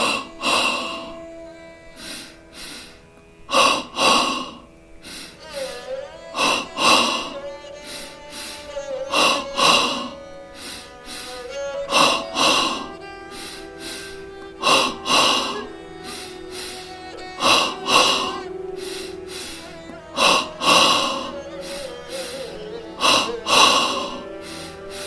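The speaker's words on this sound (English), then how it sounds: "begin double breathing" Rhythmic yoga double-breathing exercise, with sharp forceful inhale-exhale bursts repeating roughly every two to three seconds, heard close and clear over a soft sustained musical drone.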